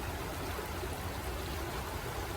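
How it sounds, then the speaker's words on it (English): Creek water gurgles and trickles steadily into a sample bottle outdoors during stormwater river monitoring, a continuous close, fairly quiet watery wash with no talk. "the first one is non-filtered creek water"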